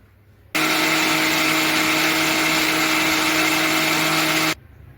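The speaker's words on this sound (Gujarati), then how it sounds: "હવે તેને આપણે મિક્સર જારમાં પીસી લઈશું" A mixer grinder starts abruptly, whirs loudly and steadily for about four seconds blending muskmelon and sugar into juice, then cuts off, leaving quiet room tone.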